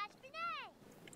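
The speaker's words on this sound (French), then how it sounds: "Ne miaule pas, hein." A single short cat meow from The Sims 4, rising then falling in pitch, heard up close over a quiet background with no talk.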